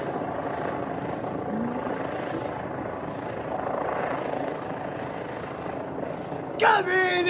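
A police Eurocopter EC135 P2+ helicopter circles over Bournemouth, its steady rotor and turbine drone continuous and fairly loud throughout, with people talking over it and a brief sharp noise near the end.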